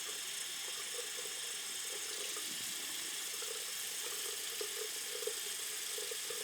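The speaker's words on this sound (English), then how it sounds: "just keep a clean flow of water coming in" Tap water runs steadily in a continuous hissing stream while makeup brushes are rinsed, close and even for several seconds, with no talking.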